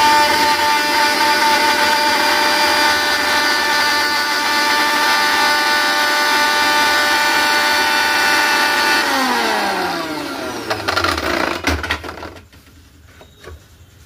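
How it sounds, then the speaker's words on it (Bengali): A Bajaj mixer grinder, still faulty after a coupling repair, runs with a loud, steady mechanical whine, then winds down with a falling pitch and rattles before stopping near the end. "মিক্সিটিকে চালিয়ে প্রথমে দেখে নিই ক্যাপলিংটা ঠিকঠাক ফিটিং হচ্ছে কিনা।"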